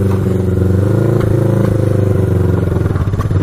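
An old Honda motorcycle, found in an abandoned storage unit and missing its air filters, runs while being ridden around a yard, its engine a loud, close, steady idle-like chug that never revs out.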